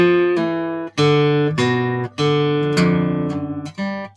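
A clean guitar plays a short blues lick, a series of plucked notes and a quick trill, each attack crisp and ringing close, with brief gaps between phrases and no talking.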